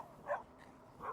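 Dogs give two short, moderately loud barks or yips about a second apart while chasing an e-bike outdoors, with quiet background between them.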